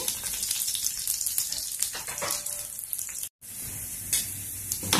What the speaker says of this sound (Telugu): వెల్లుల్లిపాయలు కొంచెం వేయించుకుంటే సరిపోతుంది